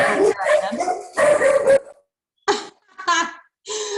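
Several dogs in a wooded city park barking and yipping back and forth in loud, close bursts separated by short silences, with a higher whimpering yip toward the end.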